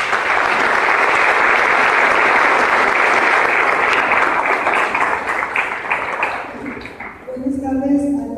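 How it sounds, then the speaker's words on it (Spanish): Loud, dense applause from a seated audience at a Spanish-language gender-equality journal presentation, sustained for several seconds before thinning out into scattered claps and a few voices near the end. "Les pido por favor un fuerte aplauso."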